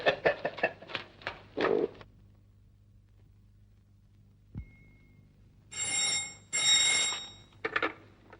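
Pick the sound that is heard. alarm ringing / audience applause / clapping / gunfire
alarm ringing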